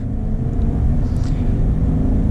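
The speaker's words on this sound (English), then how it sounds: "Let's get a quick acceleration here with the Trail Boss." A 2020 Chevy Silverado 1500 Trail Boss LT with a 6.2-liter V8 and 10-speed transmission accelerates with a heavy, steady low engine rumble, close and continuous, with no talk over it.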